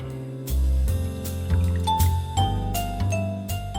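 A margarita cocktail being strained over a large chunk of ice, with ice clinking, liquid pouring and light jingling in a short, close burst.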